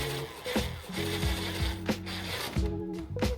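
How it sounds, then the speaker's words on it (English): An impact driver slowly runs a bolt onto a salvage car during a rebuild, heard close up as a whirring motor whine broken by short rattling hammer bursts and falling pitch sweeps. "So all I'm doing is impact driver on there, nice and slowly."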